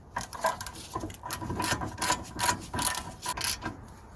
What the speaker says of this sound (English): Right, so just gonna screw the top bolts now.